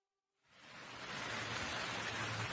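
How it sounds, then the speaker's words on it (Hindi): Heavy rain fades in from silence and settles into a thick, steady roar of downpour, a constant wash of drops with no voices. "उस रात बहुत तेज बारिश थी।"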